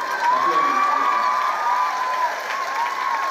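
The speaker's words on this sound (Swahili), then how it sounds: "Tupige Bwana Yesu makofi kwa sababu ya hiyo maneno" A church congregation breaks into sustained applause with some cheering, a dense, fairly loud wash of clapping from the whole room that continues steadily throughout.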